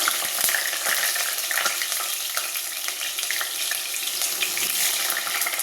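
Potatoes go into hot oil in a pan for a simple vegetable curry, giving a loud, steady hiss and sizzle with faint scrapes and clinks, no voices.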